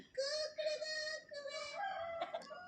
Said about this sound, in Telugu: ఇది మా ఊరి అందగాడు కోడిపుంజు